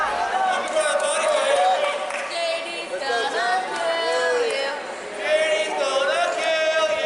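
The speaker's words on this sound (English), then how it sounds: "Listen to the crowd" Crowd at a pro wrestling match, a steady roar of chatter and shouts with rising swells of cheering, heard close and continuous under voices throughout.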